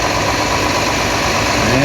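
A Farmall 1256 tractor with its turbocharged 407 engine runs at a steady idle during an autumn harvest days parade, giving a continuous rumble with no breaks.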